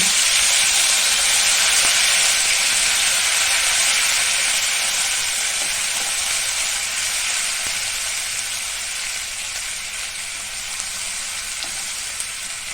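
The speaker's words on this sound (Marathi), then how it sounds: "ही आता आपल्याला ही परतून घ्यायची कांदे" Onions sauté in a hot pan for kala chicken masala, giving a loud, steady, close sizzle and hiss that runs unbroken throughout and eases slightly toward the end.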